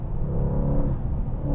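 A Brabus Rocket 900 accelerates in fifth gear from about 100 km/h, giving a steady, deep engine rumble with a smooth rising drone heard close from inside the car.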